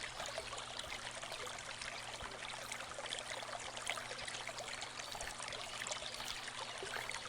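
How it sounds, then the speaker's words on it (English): A swift little creek flows over smooth stones at the bottom of a hill, a continuous bright trickling and babbling with a steady low hum beneath, no voices. "It is swift and tinkles merrily as it flows over smooth stones."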